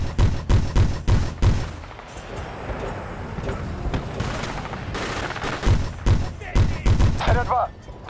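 Loud, sharp gunshots from Battlefield Bad Company 2 in a multiplayer match, fired in quick bursts at the start and again near the end, with a player talking in the quieter middle.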